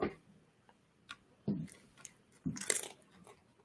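A pet crunches food in short bursts, several distinct crisp bites spaced a second or so apart, close and fairly quiet against a hushed indoor background.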